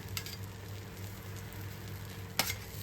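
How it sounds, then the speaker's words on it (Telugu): Cooked vegetables go onto a vegetable omelet frying in a pan. A steady, close sizzle runs throughout, with one brief clatter near the end and no talk. "అది వేయగానే దాని మీద మనం మగ్గించుకున్న కూరగాయలను వేసేసుకోవాలి"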